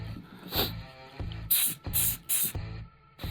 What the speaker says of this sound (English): Little accelerator.